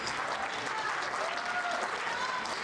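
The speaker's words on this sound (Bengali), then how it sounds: "একটা বড় হাততালি" Applause at an anniversary event for Ashok Arati in the USA, a dense, steady wash of many hands clapping throughout, moderately distant, with faint crowd voices mixed in.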